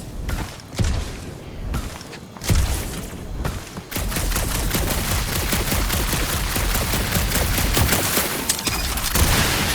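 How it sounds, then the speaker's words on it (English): Gunfire in the video game Guardians of the Galaxy, a loud dense barrage of rapid automatic shots that becomes continuous after a few scattered bursts, with no voices over it. "that aimless shooting isn't gonna scare the monsters away"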